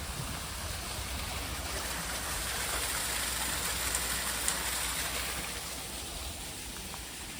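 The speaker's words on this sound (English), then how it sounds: "Waterfall coming down." Steady rushing water from a small waterfall feeding a stream near White Wells Spa, a continuous broadband hiss heard at moderate distance with no talking.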